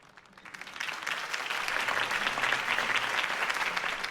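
Crowd applause in Batman: The Telltale Series swells up quickly and holds steady, a dense wash of clapping from many hands with no talking over it.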